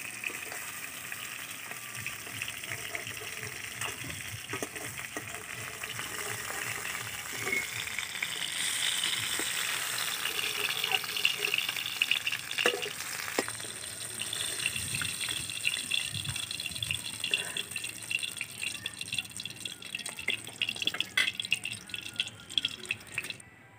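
Gold fish frying in oil for a malai curry, a steady close hiss and bubbling sizzle that runs throughout, with occasional sharper crackles and spits rising toward the end and no talking.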